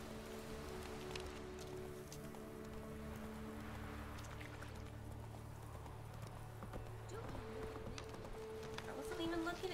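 Hooves of a horse clip-clop steadily along a road in The Witcher 3 game, a faint continuous trot mixed under game ambience, with a person talking over it throughout.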